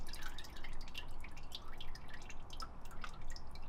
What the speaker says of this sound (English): just a little bit of oil coming out because most of it got drained already